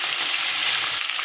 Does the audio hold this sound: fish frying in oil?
yes